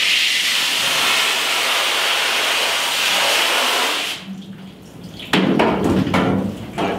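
A steady spray of water hisses onto a screen-printing screen for several seconds, then stops; afterward come quieter handling sounds, light knocks and a few scrapes close by.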